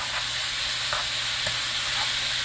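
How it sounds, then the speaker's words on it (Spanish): Chopped onion sizzling in a frying pan with ground beef for spaghetti with beef, a steady close hiss of frying with a few faint stirring scrapes and no voices. "En este momento le agregamos la cebolla."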